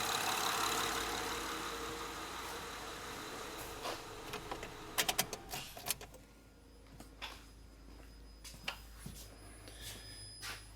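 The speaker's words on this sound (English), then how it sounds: "I'm gonna turn off the engine" A 2006 Honda Odyssey's idling engine rumbles, then a few clicks and a clunk as it shuts off, leaving a quieter hum with occasional faint ticks; the van has a faulty alternator.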